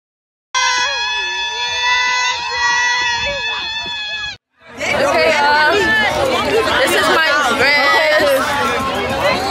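A prom crowd fills a hall with loud, dense chatter, shouts and excited screams, close and constant. A short stretch of music or tones comes first, then a brief gap before the babble swells.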